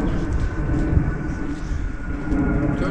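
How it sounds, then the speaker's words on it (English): Airplane passing overhead near Disneyland Paris, a loud steady low rumble and roar that swells slightly, heard outdoors with no talk over it. "Oh, look at that plane."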